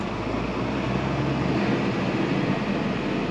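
A tractor discing a field, with its engine revving and a steady broadband roar that holds throughout, the low drone shifting slightly partway through as the revs change.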